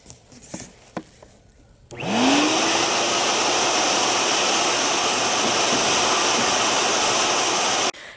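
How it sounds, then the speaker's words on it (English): Vacuum cleaner running underneath a flipped-over dresser: a few knocks and handling bumps, then the motor whines up and holds a loud, steady roar before cutting off at the end. "I'm going to flip this on its back and then vacuum all underneath there"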